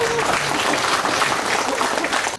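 Large audience at an academic conference in Muan breaking into sustained applause, dense continuous clapping from many hands filling the room, with faint voices mixed in beneath.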